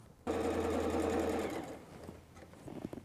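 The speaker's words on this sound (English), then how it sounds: "So now I'm going to sew my halves together." A sewing machine runs steadily for over a second, stitching quilt block halves together for a mosaic throw quilt, with a close mechanical whir that then slows and stops, followed by faint handling noises.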